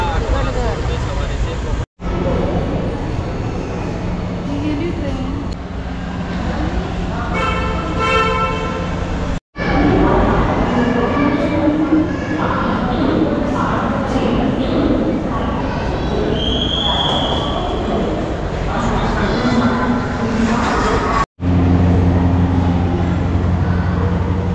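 A busy railway station at night, around nine o'clock, with loud vehicle horns tooting and traffic rumbling, people talking nearby throughout, and a few sharp cuts breaking the continuous noisy bustle.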